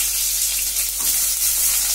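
Onion and green chilies hit hot oil already holding mustard seeds and split lentils for a South Indian tempering, giving a steady, close, broad sizzling hiss throughout with no voices.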